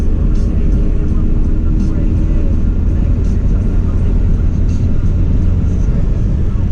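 Turbocharged Honda Del Sol with a D16Z6 engine pulls hard in fifth gear from low revs, a loud, steady engine drone and turbo spool filling the cabin without pause.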